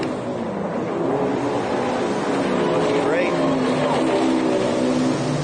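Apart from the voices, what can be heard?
Monster Energy racing boat passing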